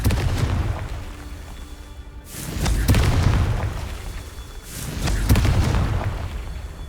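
Confringo fire spell explosions in the video game Hogwarts Legacy, two deep booming blasts a couple of seconds apart, each swelling and then rumbling away, loud and close.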